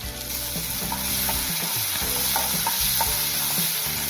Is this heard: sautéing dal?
yes